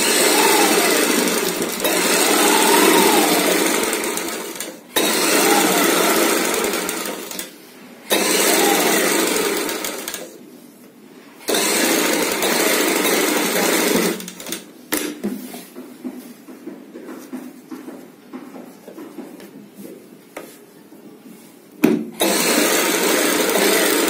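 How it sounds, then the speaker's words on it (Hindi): A sewing machine stitches the side seam of a jacket-style kurti in loud, steady whirring runs of several seconds each, separated by short pauses and quieter stretches. "अब दूसरी साइड भी सिलाई कंप्लीट करेंगे।"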